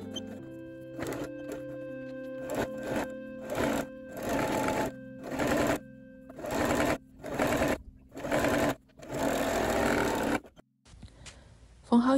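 A sewing machine stitches a folded fabric skirt tie for a Hanfu skirt in short repeated bursts, each run of rapid stitching separated by pauses, close and clear, with no talk over it.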